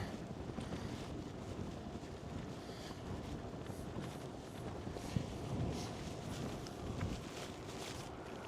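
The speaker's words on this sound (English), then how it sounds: "Must be the wind." Steady wind rushes across the microphone outdoors during a bicycle ride, a continuous broadband roar with gusty swells and no talk.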